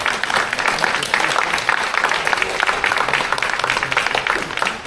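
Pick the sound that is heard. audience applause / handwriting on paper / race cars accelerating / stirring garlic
audience applause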